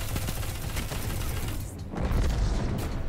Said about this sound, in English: That was a very good pulse nade